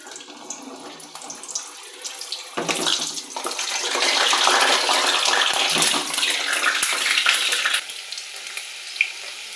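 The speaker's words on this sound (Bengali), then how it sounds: "কড়াই তেলের মধ্যে আলুগুলো দিয়ে দিচ্ছি।" Potatoes drop into hot oil in a wok for a mutton curry, setting off a sudden surge of loud, close sizzling and bubbling that holds steady for several seconds before easing slightly, with no talking.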